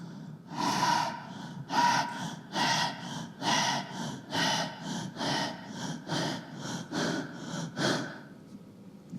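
A person doing dog breathing as a yoga exercise for asthma, tongue out, panting in rapid, forceful bursts, about a dozen loud, close, evenly spaced breaths with no speech.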